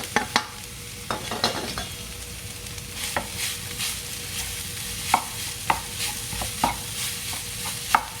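Rice stir-fried with oncom and salted fish in a hot wok, a continuous close sizzle broken by repeated scraping and tapping strokes of a spatula against the metal, no voices.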